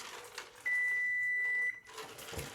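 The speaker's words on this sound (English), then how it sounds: "There goes our timer." A kitchen timer gives one long, steady electronic beep of about a second, a clear high tone standing out over faint kitchen background noise and soft voices before and after.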